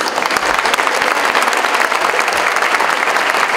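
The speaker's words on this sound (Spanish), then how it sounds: "fuertes los aplausos para la doctora María de la Luz Domínguez Campos" An audience at a public event in Zacatecas on zero tolerance for violence applauds loudly for a doctor. The dense, continuous clapping fills the room with no voices.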